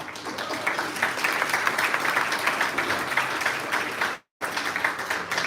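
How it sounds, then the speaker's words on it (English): Dense applause rolls through a graduation ceremony hall, many hands clapping steadily at even strength, with an abrupt brief cutout near the end before the clapping resumes. "Give them applause, please."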